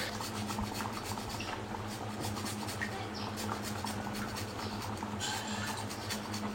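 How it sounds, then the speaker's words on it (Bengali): Ginger (amada) is grated for a wedding-style chutney in a home kitchen, making soft, repeated rasping strokes against a grater. The sound is faint and close, with no talking. "আমাদাটা গ্রেট করে দেবো"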